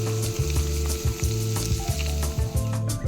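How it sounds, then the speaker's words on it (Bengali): Prawns frying in hot oil for a prawn and brinjal dish, with a loud, continuous close sizzle and bubbling plus some stirring, and a low steady hum underneath; no voices. "এখন আমরা চিংড়ি মাছ ভাজবো"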